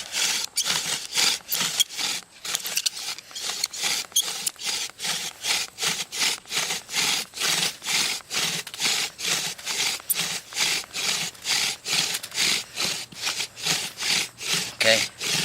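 A palm frond bow drill drives a spindle back and forth against a wooden board, giving a rhythmic rasping saw-like stroke roughly twice a second, repeated steadily and close up with no talking.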